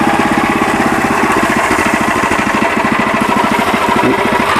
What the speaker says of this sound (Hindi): बिल्कुल मशीन के ऊपर पानी है, वाटर प्रूफ इंजन है, पानी डाल के दिखा रहा हूँ।